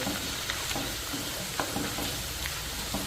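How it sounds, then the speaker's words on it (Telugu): Chicken pieces fry in hot oil for a chicken pickle, a dense, steady sizzle with small pops and occasional stirring scrapes, close and continuous. "ఫ్రై అయ్యే కొద్దీ ఆయిల్ పైకి వచ్చేస్తుందండి చికెన్ అంతా చిన్నగా అయిపోతుంది"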